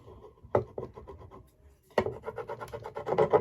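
An unscented white candle is rubbed as wax resist onto a painted cabinet, giving close dry scraping strokes in two bursts separated by a brief pause.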